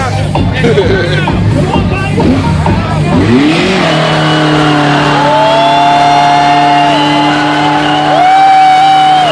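Car engine revving hard for a burnout at a Maryland car meet, with rising and holding high revs and tire squeal over a loud crowd babble and shouting nearby.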